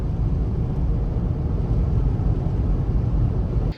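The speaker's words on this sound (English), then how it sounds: "But for this upright windshield, I expect some wind noise." Steady broadband wind and road rush inside a 2024 Toyota Land Cruiser 1958 Edition with an upright windshield while driving, continuous and fairly loud with no voices, cutting off abruptly at the end.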